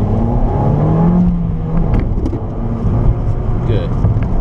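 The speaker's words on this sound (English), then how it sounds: "let's just drive the slalom and see how it goes" A car driving an autocross slalom around cones at an SCCA StartingLine session, its engine a steady loud drone with rising and falling revs from inside the cabin, while people talk over it.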